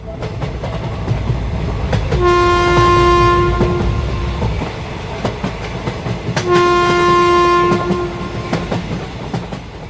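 A cartoon train rolls along with a constant rumbling clatter, broken by two long, loud horn blasts a few seconds apart.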